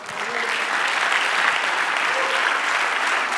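A church congregation claps together in steady, sustained applause that fills the room for a few seconds, dense and even with no spoken words over it.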